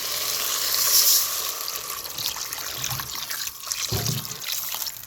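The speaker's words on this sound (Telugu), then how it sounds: "అది ఇప్పుడే నీళ్ళు వేసుకుంటే బాగుంటుంది" Water pours steadily into a hot pot of village-style chicken pulusu, hissing and sizzling, then tapers off near the end.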